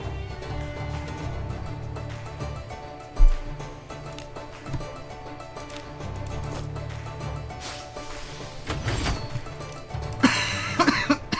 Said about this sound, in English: Why am I coughing so much?